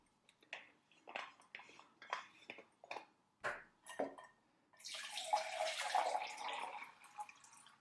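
A few short splashy drips and clinks, then a steady rush of half a liter of water pouring into a camping stove pot for several seconds before tapering off.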